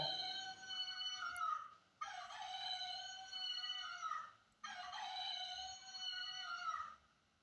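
A rooster crows loudly three times in succession, each long harmonic call separated by brief pauses, close and unaccompanied.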